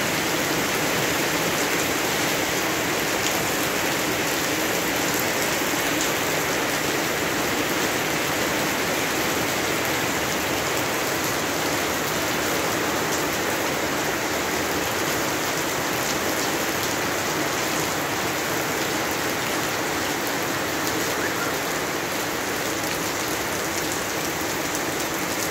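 Heavy rain pours steadily in a countryside village on a September afternoon, a dense, even hiss of drops hitting surfaces that holds at the same loud level throughout with no voices.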